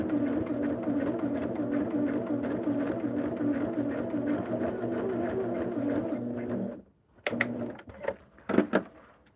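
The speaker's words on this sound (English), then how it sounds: "stitch up as close to your pin as you can" A sewing machine runs steadily, stitching quilt pieces for a Wedding Star block, then stops after about seven seconds. A few scattered clicks and handling sounds follow.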